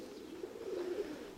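Pigeons cooing nearby in a windy yard: a soft, low warbling coo rises and swells briefly over a faint breezy background, quiet and close.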